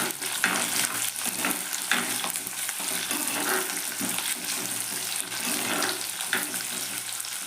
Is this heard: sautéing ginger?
yes